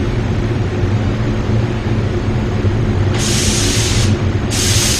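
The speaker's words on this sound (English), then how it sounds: "Spraying at 18 psi." Two bursts of hissing spray from a paint spray gun at 18 psi painting a car, about a second each with a short pause between, cut in over a steady low mechanical rumble, close and fairly loud.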